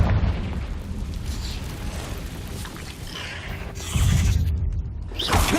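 Confringo blasting spell from Hogwarts Legacy bursting in a cave, a series of booming pops and rumbling explosions layered over combat noise.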